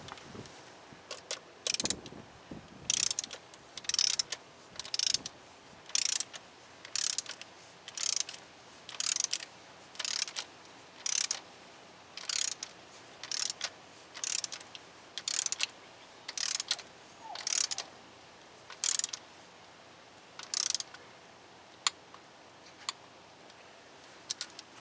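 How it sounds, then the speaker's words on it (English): A hand ratchet tightens the valve cover bolts on a Honda B18C1 engine, giving some twenty short, crisp bursts of clicking at a steady pace, close and clear against a quiet background. "it's taking a lot of ratcheting"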